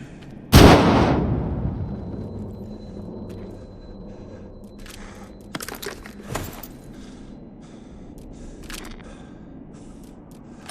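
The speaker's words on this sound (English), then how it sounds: "Grab another grenade and try again." A grenade blows up in the WARDOGS video game with one loud, close boom that rings out and fades, followed by a few fainter clicks and thuds.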